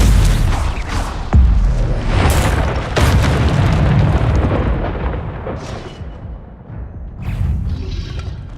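Spell blasts, including a Stupefy, burst in Hogwarts Legacy combat, with heavy booms and sharp cracks over a rumbling fight ambience, loud and close throughout.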